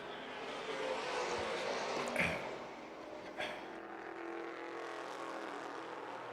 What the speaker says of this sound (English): 23 John Cloud in 10th, just going by in the blue number 23 Mustang